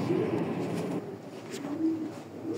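Soft, low cooing from a racing pigeon, with a red chequer and a down-shaped hen nearby, murmuring steadily at close range under faint background noise.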